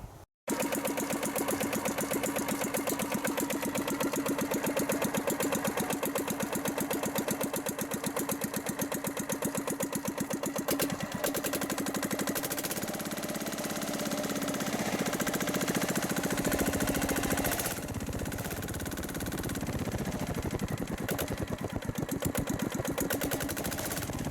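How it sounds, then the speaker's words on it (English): A diesel engine on a dozer built from a track trencher runs steadily up close, shaking hard, its rapid, rattling thrum continuing with slight shifts in pitch and vibration throughout. "that diesel's got so much shake in it"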